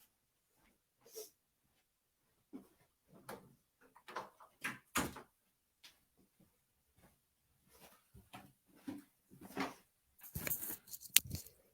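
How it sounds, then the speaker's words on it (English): A door is pushed shut indoors amid a scatter of soft knocks, shuffles and handling noises, several quiet bumps leading to louder clunks and a final rattling burst. "Let me just shut the door."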